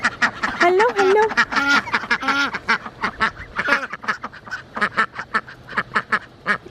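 A pet duck quacks in rapid, repeated bursts, close and loud, with a person's voice mixed in among the calls.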